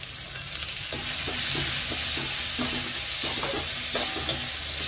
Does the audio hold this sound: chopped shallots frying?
yes